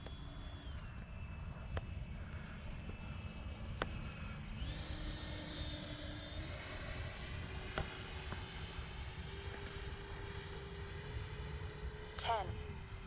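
An X-Fly Alpha RC model jet on landing approach with gear and flaps down, its engine a steady whine with pitch shifts throughout, close and continuous under wind noise while someone talks briefly.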